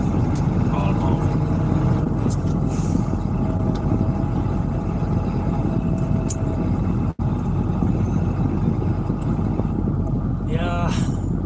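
Los Angeles road traffic heard from inside a truck is a steady, dense engine rumble and road roar that runs throughout, with a brief dropout near the middle and faint tonal squeals toward the end.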